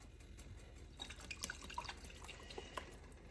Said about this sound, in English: I'm going to give this a good splash of Worcestershire sauce.